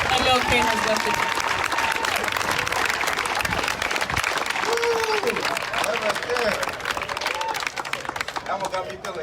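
Applause and cheering from a crowd at a community march for Black lives in White Center rise loud and steady, with shouts and voices mixed into the dense clapping throughout.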